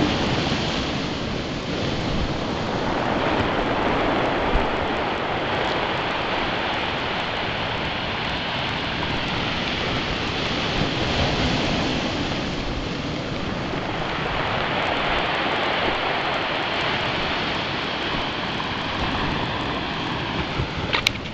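Waves surge and break against the breakwater at East Chezzetcook beach in January, a steady loud roar of surf mixed with wind buffeting the microphone, continuous with no talk.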